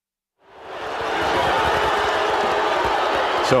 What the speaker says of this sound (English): after the foul, which the crowd did not like, and you can hear the noise underneath